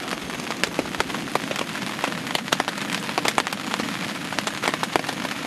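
Rain patters on a nearby fly sheet at a campsite at Phu Soi Dao, with many sharp drips and taps landing irregularly over a steady wash of falling water.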